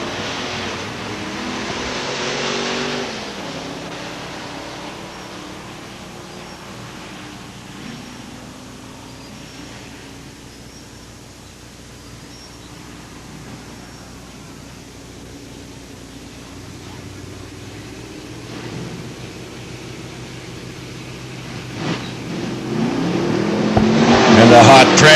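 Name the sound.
drag racing cars, 1991 Mustang against 1986 Corvette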